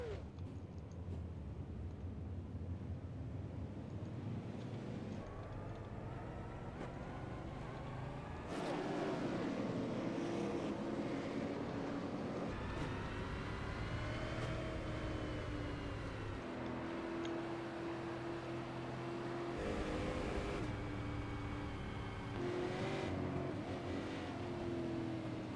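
Race cars starting a race at Iowa Speedway, a pack of engines droning and rising in pitch as they accelerate, with several surges and swells of revving over a steady low rumble.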